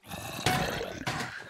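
Zombie growls in the Minecraft Hypixel minigame Blocking Dead: two rough, roaring snarls in quick succession, moderately close and fairly quiet, with no talk over them.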